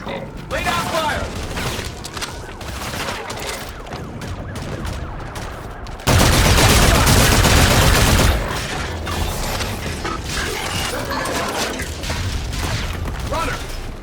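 Heavy sustained gunfire in a Call of Duty: Infinite Warfare firefight, a loud dense burst mid-stretch surrounded by mechanical clatter and rattling, with shouted voices in the mix.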